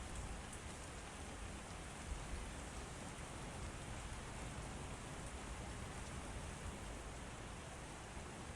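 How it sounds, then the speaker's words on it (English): Steady, dense rain in American Truck Simulator, a continuous even hiss of drops pattering on surfaces, loud and unbroken throughout with no voices. "Of course it's raining."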